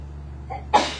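A single short sneeze bursts out near the end after a faint intake of breath, close and sharp against a quiet classroom background hum.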